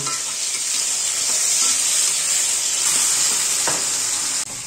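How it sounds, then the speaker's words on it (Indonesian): Wild mushrooms fry in a pan with a steady, loud sizzle that holds evenly throughout, with faint stirring scrapes and no voices. "digoreng sampai kering ya digoreng"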